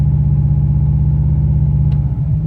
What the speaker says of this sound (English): And if I rev it up, watch.